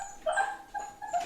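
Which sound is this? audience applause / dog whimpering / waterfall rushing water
dog whimpering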